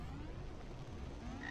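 In an indie web video game, a frog croaks in a steady, throaty run that fills the moment at moderate volume with no speech over it.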